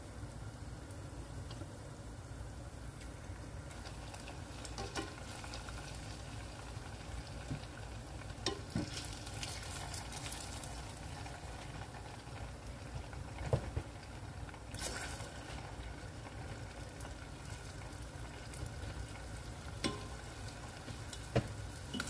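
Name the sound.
frying saba bananas in oil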